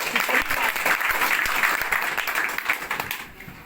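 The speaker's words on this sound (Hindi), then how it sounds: "बहुत बड़ी बात है सर, ताली बजा सकते हैं।" An audience applauds loudly and steadily at a DXN seminar, the clapping slowly thinning and fading toward the end.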